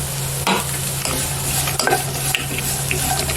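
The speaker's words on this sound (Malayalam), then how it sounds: "നമ്മുടെ പാവക്കായ അപ്പോൾ അത്യാവശ്യത്തിന് ഫ്രൈ ആയി വന്നിട്ടുണ്ട്" Bitter gourd sautéing in a pan, a steady close sizzle and frying crackle with stirring scrapes and a few clinks of a utensil against the pan.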